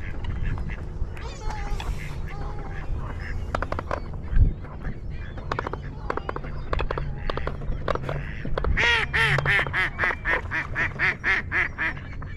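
Many ducks being fed at Lake Mead, Las Vegas, quack in busy overlapping bursts nearby, growing denser toward the end, with a person talking faintly underneath.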